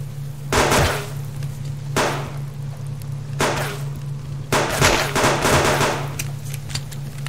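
Gunshots in the game Subsistence ring out in several separate bursts, each a loud, close crack or rapid cluster of shots, over a steady background hum.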